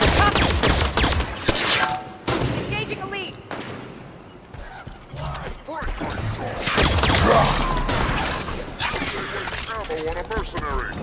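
Enemy gunfire in the Halo 5 shooter game, bursts of rapid shots and crashing impacts scattered through the clip, mixed with game voices talking over the action.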